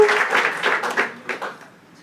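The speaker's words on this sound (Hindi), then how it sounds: "और रामकृष्ण नल्ला के लिए एक बार जोरदार तालियां भाई।" A brief burst of audience applause and cheering at a live comedy show, strong at first and tapering off over two seconds.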